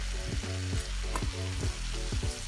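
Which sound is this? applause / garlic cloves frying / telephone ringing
garlic cloves frying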